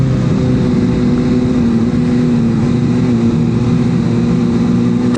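Steady engine drone from a CFMOTO 500SR sport motorcycle ridden at an easy pace on a race track, a constant loud hum with strong low tones running unbroken and without voices.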